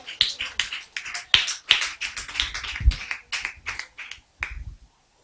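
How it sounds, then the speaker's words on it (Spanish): A church congregation claps during a Sunday service, irregular close claps and taps in uneven bursts, fairly faint, ending in silence. "dale ese aplauso a Dios"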